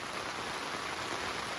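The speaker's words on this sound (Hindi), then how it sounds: "अब बारिश के थमने का इंतज़ार कर रहे हैं" Rain falls steadily at a mountain campsite in Kyrgyzstan, a soft, even hiss of drops on surfaces with no voices, faint and unbroken.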